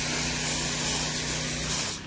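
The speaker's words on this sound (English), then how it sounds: "But normally I do not spray my plants down like this at all." Water sprays onto plants in a high tunnel raised bed as a close, steady, broad hiss that runs continuously before tapering off at the very end.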